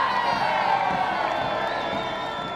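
A big crowd cheers and whoops in the streets of Manchester, celebrating Manchester City's first trophy: a dense, steady roar of many voices that carries from start to finish, with scattered shouts rising above it.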